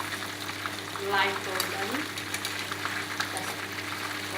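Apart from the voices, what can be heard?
chicken pieces being stir-fried in oil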